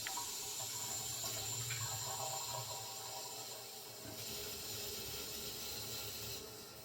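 Water runs and hisses steadily as the supply line to a toilet is opened during a TOTO Washlet installation, a close, continuous flow with small clicks and a slight drop in level partway through.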